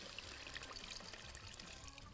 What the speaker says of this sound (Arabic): هنضيف تقريبا 3 كوبايات ميه برضو.